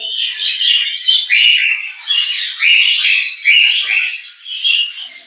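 Several caged male songbirds call close by in loud, busy, overlapping high chirps and trills that carry on without a pause, with no talking.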